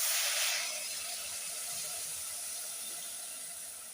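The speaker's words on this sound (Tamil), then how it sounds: "நல்லா கொதிக்கட்டும்" Tamarind water with chili and spices boiling in a cooking pot for a bitter gourd pitla, giving a steady, soft, close hiss of bubbling that slowly eases.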